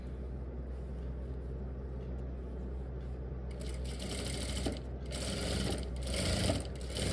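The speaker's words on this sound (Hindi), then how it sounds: "बाकी सीधा सिलाई लगाते जाना है" A sewing machine runs a continuous fast stitch, sewing a zipper onto formal pants. Its motor hums steadily and the needle chatters close by, growing a little louder and rougher toward the end.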